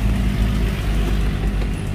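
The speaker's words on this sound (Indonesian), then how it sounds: "Sama ngetes mobil ya." A car driving on a foggy mountain road, heard as a loud, steady engine and road rumble from inside the vehicle, continuous with no distinct events.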